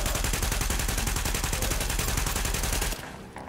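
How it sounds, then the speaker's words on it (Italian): A heavy machine gun in the video game The Division fires a long, rapid, evenly spaced stream of loud close shots for about three seconds, then the burst stops abruptly and fades into a quieter tail. "Proviamo con la mitragliatrice pesante adesso."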